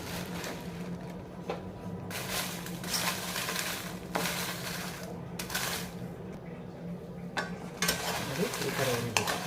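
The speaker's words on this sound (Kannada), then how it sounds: "ಈಗ ಮೆಣಸಿನ್ಕಾಯಿ ಹುರಿತೀನಿ" Dried red chillies roast in a hot pan on a stove over a low flame for sambar powder, with a steady sizzle and repeated scraping, stirring strokes from a spatula at close range.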